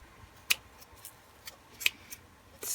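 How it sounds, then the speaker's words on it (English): Scissors snip through dried wet felt on a felted pumpkin, a few sharp separate clicks with uneven gaps, quiet and close in an otherwise calm room. "Let me use these scissors."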